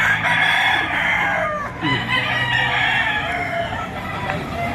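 Dense chorus of many chickens clucking and crowing at once at a poultry auction market, a busy, continuous flock din with a faint murmur of voices underneath.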